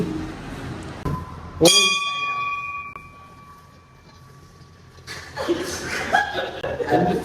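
A single bright metallic temple bell strike rings out at Ghatandevi temple and decays slowly over a few seconds, with people talking and laughing before and after.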